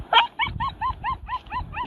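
A dog barks in a quick, regular series of about eight sharp, close barks, with faint rumbling in the background, in the aftermath of the Taal volcano eruption.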